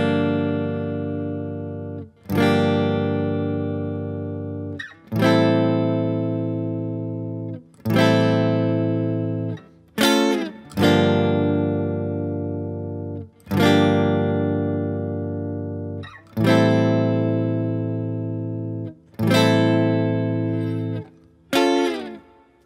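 A guitar strums chords from a song with downward slides, eight or so loud ringing strums each sustaining and decaying over a couple of seconds, some with quick restrikes.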